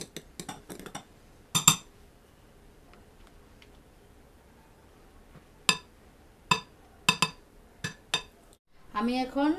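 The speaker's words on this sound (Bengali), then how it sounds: "হালকা ভাবে মিক্স করব।" Orange sponge cake batter being mixed lightly in a bowl gives sparse, sharp utensil clinks against the bowl, in a few quick clusters separated by quiet pauses.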